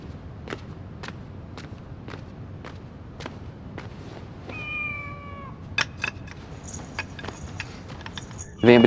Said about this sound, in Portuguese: Sim, é uma gata estrangeira.